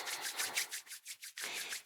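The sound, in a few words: rubbing palms of the hands together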